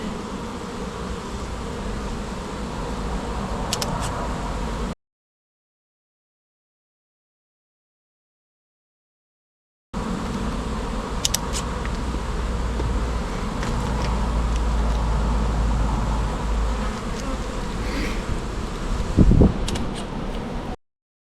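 A swarm of bees drones steadily around a bin as they are removed from it. The buzzing is interrupted by a few seconds of total silence, then resumes with individual bees zipping past close by.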